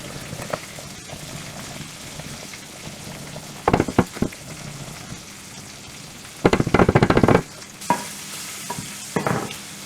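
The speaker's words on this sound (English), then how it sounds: "while the chorizo and the pasta is cooking, I'm going to stir the chorizo every now and then" Chorizo and pasta cooking together in a pan are stirred now and then, giving clattering scrapes in short bursts over a steady low sizzle and bubbling.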